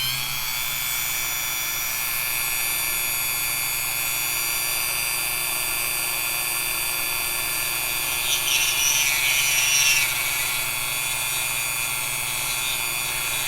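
A Dremel rotary tool cuts serrations into a lock during a challenge lock build, giving a steady, high-pitched whine that runs close and unbroken. The whine briefly grows harsher near the end, and no one speaks.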